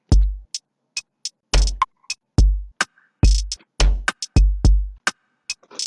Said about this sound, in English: I'm just going to solo only the drums